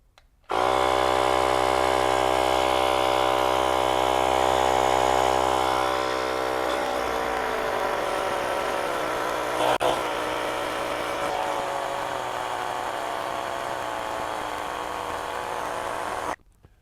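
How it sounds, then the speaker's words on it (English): VTOMAN V150 portable air compressor pumping up a tire: a loud, steady buzzing motor drone starts abruptly, runs continuously, deepens slightly partway through, then cuts off sharply. "See how long it takes to pump up this tire."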